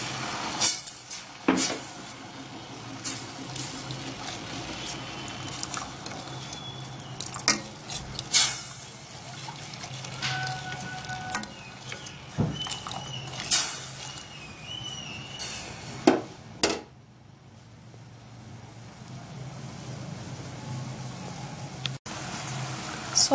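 A thick homemade sugar wax mixture boils on the stove with irregular pops, clicks and occasional utensil clatter, fading quieter near the end.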